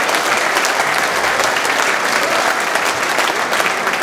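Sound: audience applause at sports award ceremony

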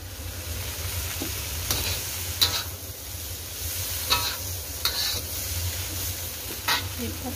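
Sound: stirring young jackfruit as it sautés in a pan

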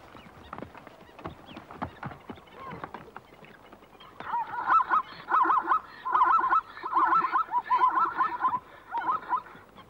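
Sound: blacksmith plovers calling at Etosha waterhole

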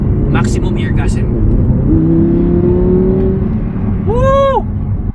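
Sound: Audi R8 V10 plus sport exhaust revving

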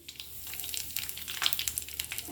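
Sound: mustard seeds, fenugreek, hing and red chillies frying

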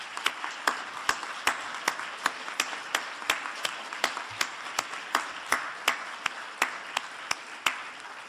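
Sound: audience applause thanking the event organizers

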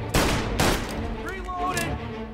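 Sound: gunfire in video game Mafia Definitive Edition

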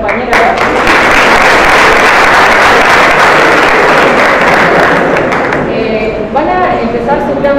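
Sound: audience applause for a classmate

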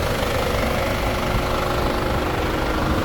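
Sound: car engine running

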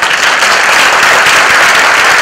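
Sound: audience applause at a music festival

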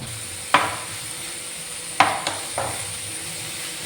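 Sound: onions sautéing with salt in masala

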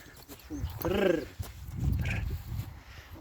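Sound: stallion horse

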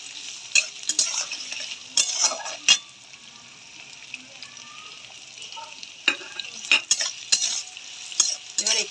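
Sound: chopped onions frying and being stirred in a pan

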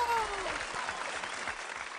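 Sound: applause for the yellow team children

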